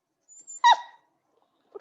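Dog barking indoors during a lecture, a couple of short yips followed by one sharp, clear bark, then a faint trailing sound after a pause, with no talking over it.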